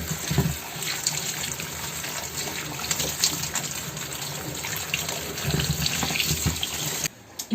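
Tap water gushes steadily as 200 grams of mushrooms are washed beneath it, a loud, close, continuous splashing into a sink with small bursts, cutting off near the end.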